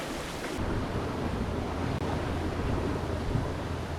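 Wind rushing over the microphone and water washing past a sailboat cruising in a 12 to 15 knot southwest breeze around Desolation Sound, a loud, steady roar with no speech.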